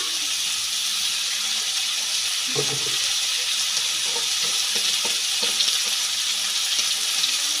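Potatoes and onion frying with turmeric and salt give off a broad, even hiss, with soft scrapes and knocks of stirring in the pan at intervals, fairly close and without talk.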